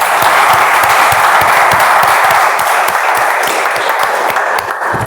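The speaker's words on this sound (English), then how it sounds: "let's give a big round of applause for our members" Sustained applause from members at a Toastmasters club meeting, a steady dense wash of many hands clapping close and loud, holding evenly for several seconds with no talk over it.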